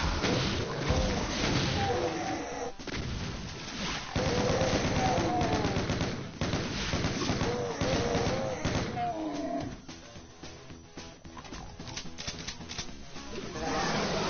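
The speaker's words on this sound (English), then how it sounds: "Rocket launcher out." Rocket launcher and other weapons firing in GBA Doom, a dense, loud stream of booming blasts and rapid gunfire with growling monster noises, continuous and harsh, with a voice talking underneath.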